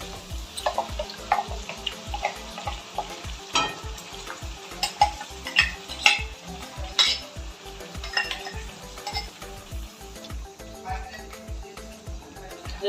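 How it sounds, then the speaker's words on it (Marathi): Ground masala frying with chopped tomatoes for chicken sukka, a steady sizzle under repeated stirring and scraping of a spoon against the pan, with a low rhythmic thumping running throughout beneath it. "मसाला टाकला आता ते आपण तळून घेऊ त्याला चांगला."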